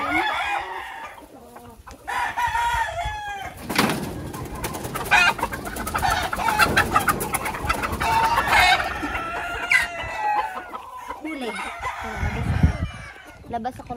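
A purebred white Kelso pullet is caught and squawks and clucks in alarm close by, with flapping and scuffling and other chickens calling around it. Someone talks briefly at the start.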